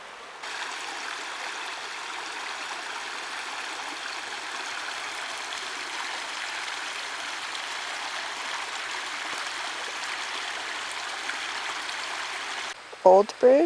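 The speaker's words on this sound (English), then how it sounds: "I wonder if this is a part of the Mad River." A forest stream along the Blue Mountains section of the Bruce Trail rushes in a steady, moderately distant wash of flowing water. A few close handling knocks and scrapes break in near the end.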